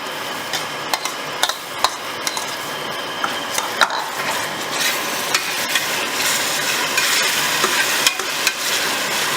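Ground masala of ginger, garlic, coriander and fennel sizzling with softened onions in a pan, a steady frying crackle broken by sharp clicks and scrapes of a spoon stirring, close and continuous with no voices.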